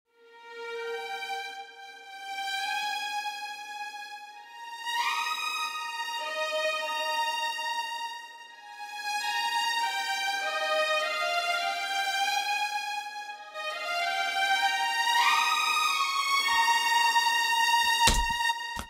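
Sampled symphonic strings from Spitfire's Abbey Road Orchestra library play a slow lyrical melody, alternating smooth legato joins with gliding portamento slides between notes, sustained and soft with no voices.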